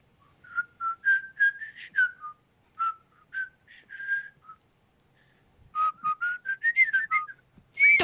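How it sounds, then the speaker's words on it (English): Someone whistles a light little tune nearby, a run of short bright phrases that pauses briefly midway and then resumes, clear and fairly close with no talk. "you hear the sound of someone whistling just nearby"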